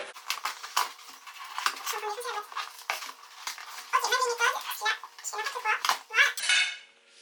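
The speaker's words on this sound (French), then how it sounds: "la boîte est bien lourde, donc c'est une belle boîte, comme une boîte à gâteau. Alors je vais l'ouvrir." A heavy cake box being opened close up, with a busy run of metallic clinks, rattles and clatters, like a tin lid and its contents knocking together, going on for several seconds before fading.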